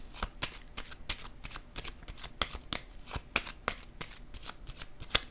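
Playing cards handled and drawn during a card reading, a rapid run of crisp flicks and snaps, close and clear, with no talking.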